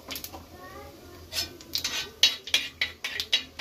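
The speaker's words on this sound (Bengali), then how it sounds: "তেলটা ভালোভাবে গরম হয়ে গেছে আন্দাজ মতো একটু কালো জিরে দিলাম ফোড়নে" Nigella seeds dropped into hot oil to temper for a fish curry, giving soft sizzling with a run of sharp crackling pops that build toward the end, close and moderately loud.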